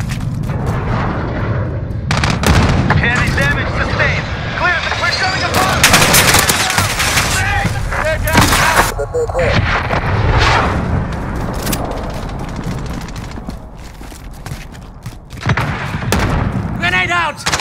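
Sustained gunfire and explosions in the Call of Duty: Modern Warfare video game, with dense overlapping shots and blasts throughout, under shouted voices.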